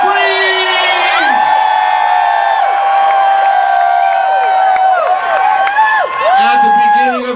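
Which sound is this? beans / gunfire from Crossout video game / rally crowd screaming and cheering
rally crowd screaming and cheering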